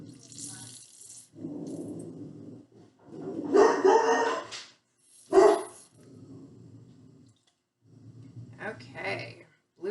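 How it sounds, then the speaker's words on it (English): A dog barks and growls in short bursts close by, mixed with a person talking and some running water in the room. "Max, stop barking."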